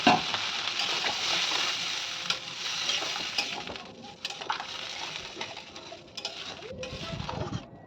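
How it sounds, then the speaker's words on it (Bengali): Water poured into hot oil for a pangas fish curry, a bright hissing sizzle that slowly settles, with a few metallic clinks and stirring scrapes near the end, close up and without speech. "এরপর আমি জল দিয়ে দিচ্ছি পরিমাণ মতো"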